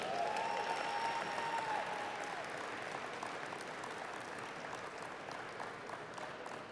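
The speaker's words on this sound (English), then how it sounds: "Let's do another round of applause for Doug and Melissa." An audience at the ALL IN! event gives Doug and Melissa a round of applause, dense steady clapping that slowly tapers over several seconds.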